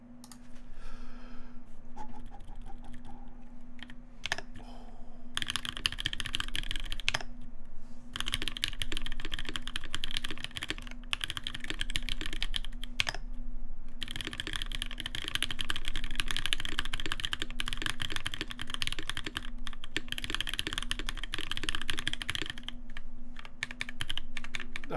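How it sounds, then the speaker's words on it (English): Fast typing on a Reborn60 mechanical keyboard fills the clip with dense bursts of close clacking keystrokes, broken by short pauses. A steady low hum sits underneath. "How well can you type with this?"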